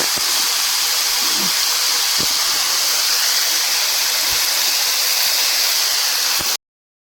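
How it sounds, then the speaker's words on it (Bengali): Leafy greens fry in a pan with a loud, constant, close hiss that runs almost the whole clip before cutting off abruptly, with no talking. "এদিকে চলছে শাক ভাজা।"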